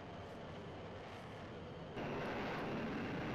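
A U-2 spy plane's jet engine in Flight Simulator X gives a steady, broad roar that jumps abruptly louder partway through and then holds, with no talk.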